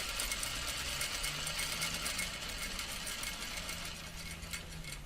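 A sewing machine stitches a welt seam along the edge of the presser foot, a steady, continuous mechanical whir running close and unbroken throughout.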